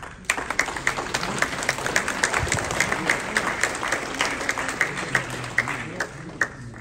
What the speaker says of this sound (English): let us give them a warm applause, please